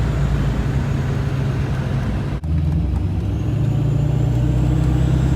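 A supercharged automatic Ford Foxbody cruising at steady throttle, its engine a constant low drone with road and cabin noise, broken by one brief dip midway.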